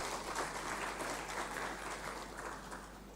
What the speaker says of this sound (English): let's give another round of applause to the Minister and his team.